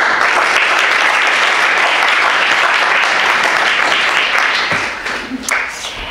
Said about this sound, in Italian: vi propongo di accogliere la nostra conferenziere con un breve applauso